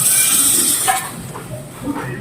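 Water poured into a hot pan while making upma hisses and sizzles loudly close by, a steady steamy hiss that slowly fades as the liquid settles.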